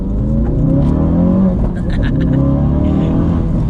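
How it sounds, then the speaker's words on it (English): Ford Focus RS with a 400bhp tune accelerating hard, its engine loud and steady with a rising drone and a brief dip at a gear change, heard from inside the car. "God, the gear shifts is so brutal. It's quick, isn't it?"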